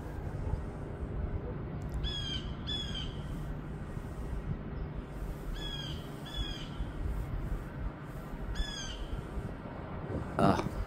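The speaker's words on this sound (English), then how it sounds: "Ugh, I hear that bird." Crow-like bird squawking in short repeated bursts of two, at a moderate distance, over a steady low background rumble with no talking.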